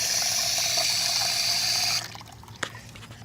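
Water pours steadily from a garden hose into a bucket with a loud hissing rush, then cuts off abruptly and leaves a quiet room and a single faint knock.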